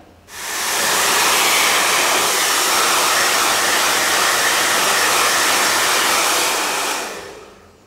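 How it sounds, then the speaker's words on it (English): A hair dryer blows steadily at close range on a hair system, a loud continuous rushing whoosh that starts abruptly and runs for several seconds before cutting off. "So you want to use your blow dryer"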